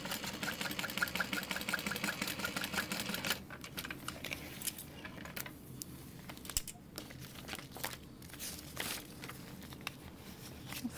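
A sewing machine topstitches fabric in a steady, fast mechanical run that sounds close and continuous, then shifts into lighter, broken clicks and fabric rustles as it slows.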